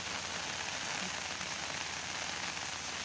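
Heavy rain pours steadily during the rainy season: a dense, even, close hiss of water striking surfaces that holds at the same loudness throughout, with no voices.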